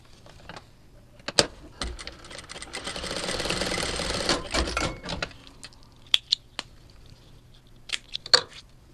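A sewing machine stitches a lace crop top strap in one steady mechanical run of a couple of seconds, framed by clicks, taps and handling noises before and after.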